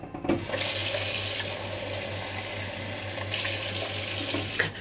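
Tap water runs steadily into a sink for soaking small ranunculus corms, a continuous loud hiss and splash that holds for several seconds with no talk over it.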